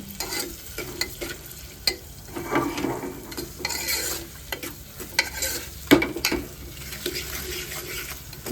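Mutton fries in a pan with salt while a spoon stirs it, a steady sizzle under repeated scraping strokes and occasional sharp clinks against the metal, close by, with no voices.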